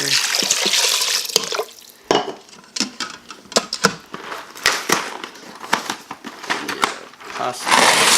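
Water runs and splashes into an Instant Pot over frozen meatballs in bursts, with clatter of cookware and a voice speaking intermittently over the pouring.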